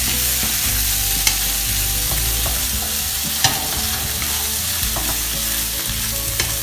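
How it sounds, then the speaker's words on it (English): Sausages coated in tandoori paste stir-fry on the highest flame, a steady loud sizzle with a few sharp clinks of the spatula against the pan. "I want to fry these up a little bit and let them cook a wee bit, a couple of minutes on the highest flame possible"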